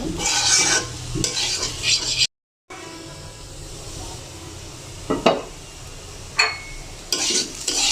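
Potato filling for mini Mughlai paratha sizzles in a pan, frying reddish, while a utensil stirs and scrapes, with louder scraping bursts and one brief cut to silence.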